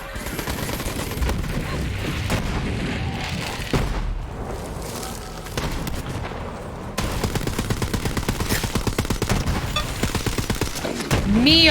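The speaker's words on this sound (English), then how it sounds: "Me, oh my! Some fancy shooting." Rapid automatic gunfire from the Borderlands 3 video game crackles in dense, sustained bursts with brief pauses, loud and close, with booms mixed in and a short rising tone near the end.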